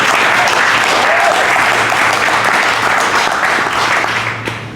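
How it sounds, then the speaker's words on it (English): Audience applause and cheering for the WBC Bridgerweight world champion arriving on stage at a boxing promotion event, dense and steady throughout before easing off at the end. "Let's give him a big round of applause"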